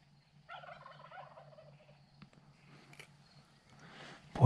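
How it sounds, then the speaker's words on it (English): Wild Rio Grande turkeys gobble in a rolling, rapid burst during a spring hunt in Colorado, moderately close, followed by softer calling and a loud rustle at the end. "when they went up and then started gobbling, those hens really came over"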